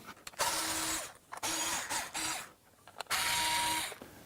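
Screws being undone to remove a circuit board in a Watersnake DR model electric motor, heard as several loud whirring bursts from a power tool, close up, with short pauses between each screw.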